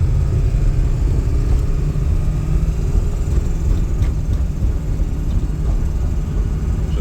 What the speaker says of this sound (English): now we're going to take off again with a strong throttle